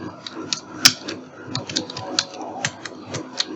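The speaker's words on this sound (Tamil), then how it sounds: "இப்போ சாய்னு டைப் பண்ணிக்கிறேன்." Keys clatter on a computer keyboard while text is typed into a design program, a steady run of light, close clicks with one sharper tap standing out.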